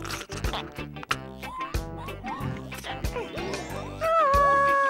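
Cartoon pigs on a farm grunt and oink through a busy, bouncy musical score, with squeaky character noises, and a bright sustained tone swells near the end.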